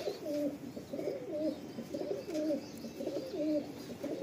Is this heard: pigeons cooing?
yes